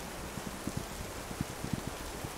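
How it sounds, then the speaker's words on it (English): Light rain in the video game This Land Is My Land, an even hiss broken by sparse soft drop taps, quiet and alone. "Still going to rain through all of this."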